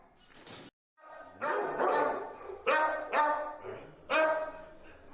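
Several dogs barking at an animal shelter, a series of sharp close barks and yips in irregular bursts with short pauses between them.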